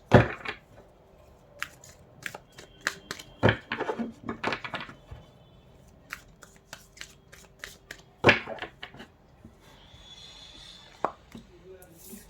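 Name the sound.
tarot cards being handled and laid out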